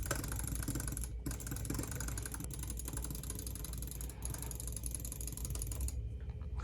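Rapid, steady mechanical clicking comes from a business laptop's button or touchpad, pressed about eleven times per second and running continuously at close range, with only one or two brief pauses.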